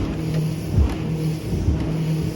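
A Quintrex 510 Freestyler boat's outboard engine runs steadily at about 4,500 RPM, a close, even drone with slight pulsing thumps and a constant broadband rush, with no talk.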